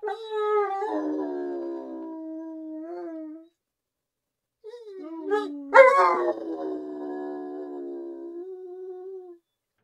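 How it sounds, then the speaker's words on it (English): A dog howls in long, wavering, drawn-out cries set off by an alarm, with two separate howling bouts and a short silence between them, loud and close with no talking. "My alarm went off and Sigurd howls to my alarm"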